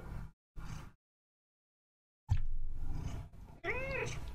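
A pet cat meows at close range, a rising, chatty call near the end of the clip, after a pause and with a few brief voice-like sounds earlier.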